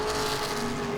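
Late model stock cars race at Langley Speedway, giving off a brief, loud, steady engine roar close by with no voices.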